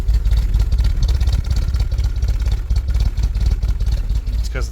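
A 1983 Toyota Tercel wagon engine running cold with no choke, a loud, close, uneven idle with rough pulsing and slight surging throughout, ending in a brief higher squeal.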